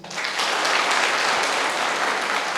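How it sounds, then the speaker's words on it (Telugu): An audience of women applauds in a hall at a speech event, a dense burst of clapping that starts abruptly and holds loud and steady for a few seconds. "ఇక్కడ ఎంతమంది ఆడవారు ఉన్నారో ఒకసారి చప్పట్లు కొడతారండి"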